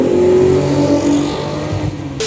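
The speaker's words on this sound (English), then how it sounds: "this car also has a catastrophic exhaust leak, which makes it sound absolutely fantastic" A Porsche Cayenne's VR6 engine with a severe exhaust leak revs hard and loud up close, a raspy, blatty exhaust note rising and holding before dropping off suddenly.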